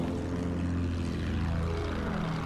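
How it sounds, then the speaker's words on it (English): Propeller engines of several fighter planes in a video game air battle drone steadily and loudly, a continuous layered hum with no talk over it. "there's a lot of planes around you, dude"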